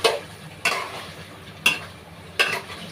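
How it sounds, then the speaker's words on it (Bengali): Chicken masala with a spoonful of homemade mango pickle frying in a pan, heard as four sharp spatula scrapes spaced about a second apart over a soft, steady sizzle, close and fairly quiet with no talk. "মাংসটাকে আমি আরও 8 থেকে 10 মিনিটের মতো কষাবো।"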